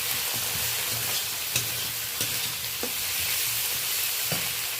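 Ginger paste fries in a pan in a constant, close sizzle, with a spoon stirring and scraping against the pan at irregular intervals, and no talking.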